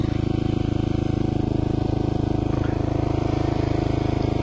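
A motorcycle with a damaged exhaust pipe running loud and close, a steady, throbbing engine rumble with a rapid pulsing beat held throughout, no talk over it.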